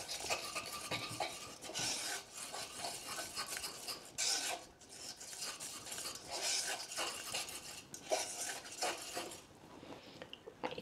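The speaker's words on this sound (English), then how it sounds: "use my whisk to make sure that we don't get any lumps" A metal whisk works cream sauce smooth in a pan, adding cream along the way for a leek gratin. Close, continuous scraping and rasping strokes run in an uneven rhythm throughout, with no voices.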